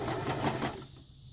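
A sewing machine stitches ruffle fabric in a fast, even burst of needle clatter lasting under a second, then stops, leaving quiet room tone.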